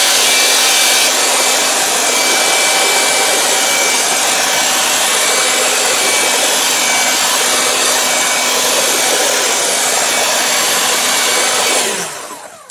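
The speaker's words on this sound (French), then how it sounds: "je peux prendre un séchoir et sécher un tout petit peu" Hair dryer drying pastel on paper: a loud, steady blowing roar with a constant motor hum that runs close and unbroken for about twelve seconds, then winds down as it is switched off.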